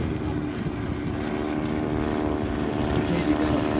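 Steady droning engine roar of propeller warplanes flying in formation at a flying circus air show, continuous and moderately loud with a slight swell toward the end.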